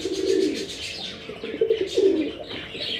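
A breeding pair of pet pigeons in a bird shop, soft repeated cooing in low rolling bursts with faint chirps, close by.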